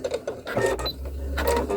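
A sewing machine back stitches at the end of a pot holder seam and runs off the fabric, giving a short close mechanical whir with a few clicks, alone and brief.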